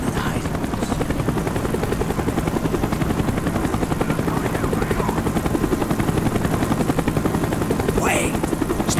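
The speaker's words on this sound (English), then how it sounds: "The chopper is coming around again." Helicopter from a Black Ops campaign circling overhead, a loud steady rotor thump with continuous engine roar filling the whole stretch, a few faint distant effects above it.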